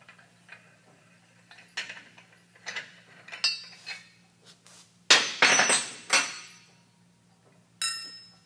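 Screws being worked loose from the secondary clutch helix of a 2016 machine, heard as close, irregular metallic ratcheting clicks and taps scattered over several seconds, with a louder cluster of clinks midway and a faint steady hum underneath.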